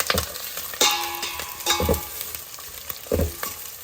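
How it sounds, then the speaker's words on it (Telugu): Onions frying in a pan for a Telugu tomato and drumstick rasam, with a steady sizzle broken by several clanging stirs and scrapes of the spoon against the pan, close and fairly loud. "ఉల్లిపాయలు కూడా బాగా వేగాల్సిన పనేం లేదు కొద్దిగా గోల్డెన్ బ్రౌన్ కలర్ వచ్చే వరకు ఉంచుతున్నాము"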